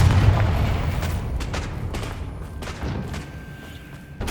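Booming spell blast from the Confringo curse in Hogwarts Legacy on PS5, a loud low rumbling explosion with rolling echoes and scattered crackling bursts, no talk.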